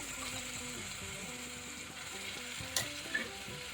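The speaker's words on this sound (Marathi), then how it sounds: "हे आपल्याला छान असं परतून घ्यायचं आहे" Ground masala paste of roasted dry coconut, garlic, ginger, coriander and onion sautéed in a pan for a spicy Maharashtrian katachi amti, giving a steady close sizzle and frying hiss with faint stirring scrapes and a couple of sharp clinks near the end.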